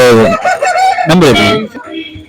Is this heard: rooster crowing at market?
yes